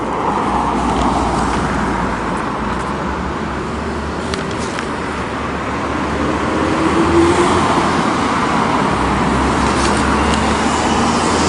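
Steady road traffic noise, cars and heavier vehicles rolling past nearby in a continuous broadband rumble with no talking.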